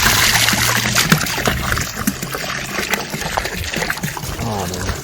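Water splashing and trickling from a village fountain in Switzerland, close and continuous, with a voice speaking over it partway.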